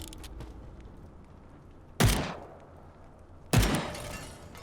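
Two sharp explosion blasts in the video game Fallout: The Frontier, the second about a second and a half after the first, each a sudden burst that fades quickly over a low background.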